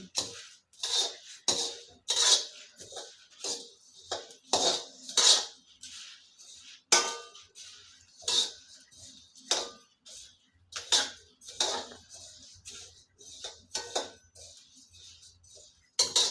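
Spices with bay leaves roast in a little oil in a large iron kadai, with repeated close metallic scrapes and clinks of a spoon stirring in an uneven rhythm.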